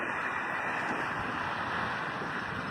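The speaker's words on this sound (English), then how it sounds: "you can see the wind is blowing" Wind rushes past the microphone outdoors on an afternoon walk, a faint, steady breathy roar with no clear gusts and no talking.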